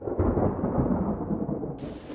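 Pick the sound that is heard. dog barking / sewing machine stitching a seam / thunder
thunder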